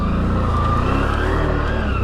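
A CFMoto CForce 1000 ATV engine drones steadily while riding trails at White Oaks ATV Park in Nassau, New York, a loud continuous hum with shifting pitch close to the microphone.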